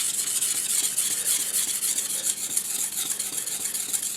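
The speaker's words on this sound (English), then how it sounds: "we're just going to kind of couple passes on each side to renew the edge, renew the bevel with new scratches" A kitchen knife is drawn in repeated passes over a Naniwa 8k Snow White whetstone, renewing the bevel on each side. The result is a steady, close, continuous rasping hiss with faint stroke-to-stroke pulsing and no voices.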